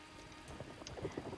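Rain patters steadily with a low rumble of thunder in the Northern Elsweyr region of Elder Scrolls Online, soft and distant, with no voices.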